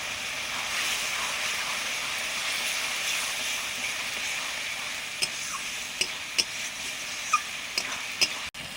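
Spices with red chilli powder sizzle and hiss in a pan with a splash of water, a steady loud frying bed, then a series of sharp clinks as a spoon stirs and scrapes near the end.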